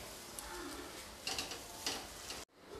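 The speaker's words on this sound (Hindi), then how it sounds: "इन सबको डालने के बाद अब मैं इसे अच्छी तरीके से बिल्कुल ड्राई होने तक भून कर तैयार" Dal mixture with roasted cumin powder being dry-roasted in a pan, a soft steady scraping and stirring with faint sizzle throughout, ending abruptly in near silence.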